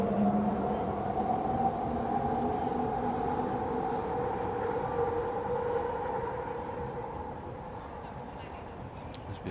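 A loud train rolls past with a steady low rumble and droning wheel and horn-like tones that fade slowly over about ten seconds, heard alone.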